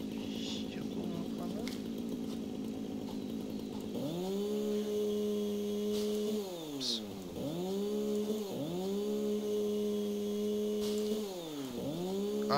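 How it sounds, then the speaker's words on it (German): A chainsaw in the video game Satisfactory clears everything around it, its engine droning steadily and dipping in repeated cycles over a busy game background. "dass man mit der Kettensäge alles im Umkreis gleich mit entfernt"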